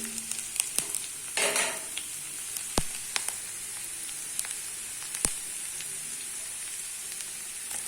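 Food sizzles in a pan before onions go in, a steady close hiss with a few sharp clicks and taps from stirring utensils. No one speaks.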